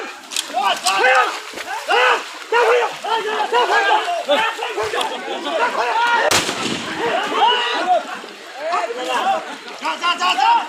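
A single sharp bang of police firing a blank shot into the air rings out amid a loud, agitated crowd of shouting voices at the scene of an attempted murder of a wife.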